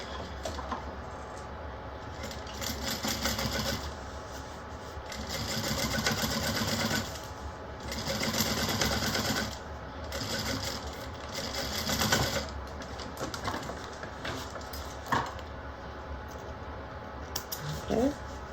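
A sewing machine top-stitches a lining down in repeated bursts of rapid mechanical whirring, each lasting a few seconds and separated by short pauses, close to the ear.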